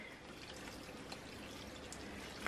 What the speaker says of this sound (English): So when I water it, I'm not going to water very much